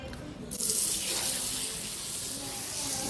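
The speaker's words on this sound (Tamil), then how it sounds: "அதுக்கப்புறம் நான் கை கழுவுலாம் வந்தேங்க." Tap water runs steadily into a sink while hands are washed beneath it, a close, continuous splashing gush that swells in after a quiet start and holds to the end.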